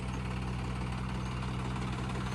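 A tractor engine runs steadily at close range, a continuous low, even drone with a mechanical vibration and no pauses.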